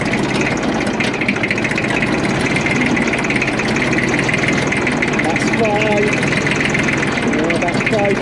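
A tractor engine drives a PTO rotavator at low speed, rumbling steadily and close by throughout, with revs held fairly even while someone talks over it.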